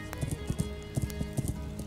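Horse hooves clopping in a steady, quick rhythm while riding in Kingdom Come: Deliverance, close and moderately loud over faint background tones.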